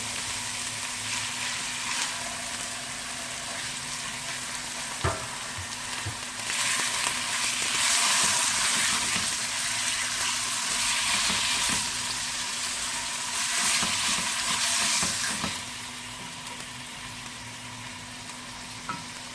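Chicken frying in a pan gives a continuous close sizzle that swells louder through the middle and eases off near the end, with an occasional clink of a utensil.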